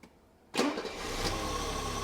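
A car engine fitted with Bosch CIS mechanical fuel injection cranks briefly and catches, settling into a steady close idle that runs loud to the end.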